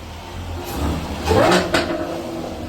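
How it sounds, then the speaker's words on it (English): A Jaguar F-type R, bought salvaged and under repair, revs its engine in a garage, the note rising and swelling in two pushes over a steady running hum, close and fairly loud. "Gotta rev it up for me"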